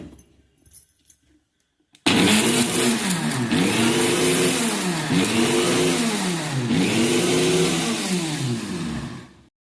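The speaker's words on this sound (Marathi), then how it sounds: "मसाला मिक्सरला बारीक करून घ्यायचा" A kitchen mixer grinder grinds whole spice masala for dry mutton curry, starting abruptly after a moment of quiet and then roaring loudly and steadily with a repeating wavering whine as the spices churn, close and with no talk.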